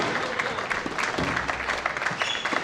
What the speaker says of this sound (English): Please give him a cheer.